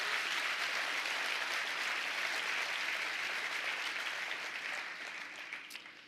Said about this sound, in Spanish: si le va a dar un aplauso a su vecino, ¿verdad? Déselo